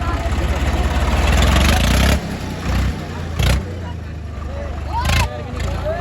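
A Swaraj tractor engine, from a pairing of Swaraj 855 and 744 models in a tractor pulling contest, runs with a steady low rumble throughout. It dips briefly a few times, with voices talking over it.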